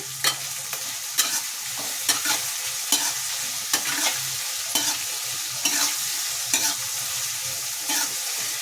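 Capsicum stir-frying in hot oil with salt in a pan for bisibele bath, a constant sizzle punctuated by regular scraping strokes of a spatula, close and with no talk.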